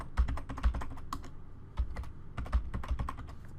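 Rapid, uneven clacking of keys on a computer keyboard, close and continuous with brief pauses between bursts of keystrokes, with no voices.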